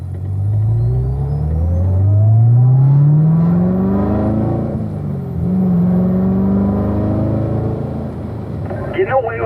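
A car driven hard around a race track, engine rising and falling through gears as the driver brakes and eases into corners, loud and close with steady engine drone throughout and a person talking over it.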